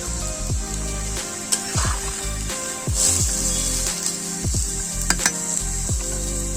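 Drumsticks and potato frying in a hot pan, with oil sizzling steadily throughout and a louder hiss swelling as water goes in, plus several scraping stirs and light clinks of utensils on the pan.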